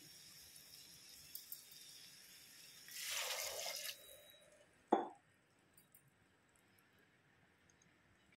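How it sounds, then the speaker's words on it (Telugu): Water poured into a pot of sambar with drumsticks after the oil has separated: a broad rushing pour for about a second, followed by a single sharp splash and faint drips, with no talking. "ఇప్పుడు మనం వాటర్ యాడ్ చేయాలి ఇందులో."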